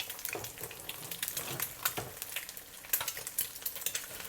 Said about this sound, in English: we'll turn the heat up to medium-high just to crisp up the edges. Fry them a little bit like this.